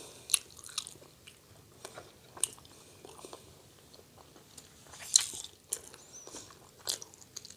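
Quiet, close crunching bites and chewing of spicy Thai fish larb, irregular soft crunches spread over several seconds with a few sharper bites, no talk.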